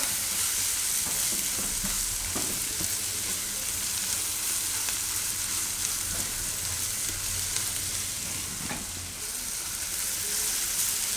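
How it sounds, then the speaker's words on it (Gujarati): Green chillies and spices being stirred in a hot frying pan for a Gujarati green bean dish, giving a steady close sizzle with scraping stir strokes throughout. "તો મસાલામાં થોડીક વાર ફેરવી લેવાના આમાં."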